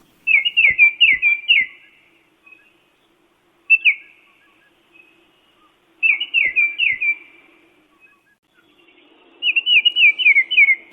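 Baltimore oriole singing: bright, clear whistled phrases in quick runs of several notes, repeated in three bursts separated by pauses, with a single short note in between, all against a quiet background.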